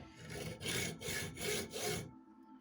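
Hacksaw cutting through a piece for whistle making, four or five rhythmic back-and-forth strokes heard close and fairly quiet before the sawing stops.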